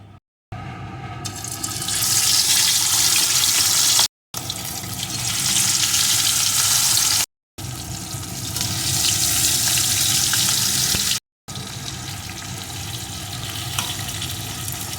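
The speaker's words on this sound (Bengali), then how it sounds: "তেলটা গরম হয়ে গেছে এখন আমি লবণ হলুদ মাখানো মাছের পিসগুলো এর ভিতরে দিয়ে দেব" Hilsa fish pieces coated in salt and turmeric fry in hot mustard oil with a loud, dense, hissing sizzle, close up. The sound is broken into several long stretches by short gaps.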